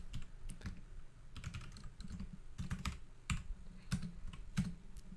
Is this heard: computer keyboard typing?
yes